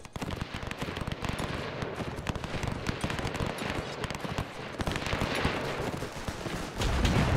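Cannon and rifle fire in the WW1 game Between Empires, a dense continuous crackle of musket volleys with deeper booms underneath, loud and sustained throughout with a heavier burst near the end.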